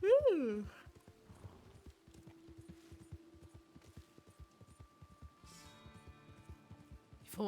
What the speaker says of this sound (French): Il me faudrait un cheval qui s'épuise pas trop vite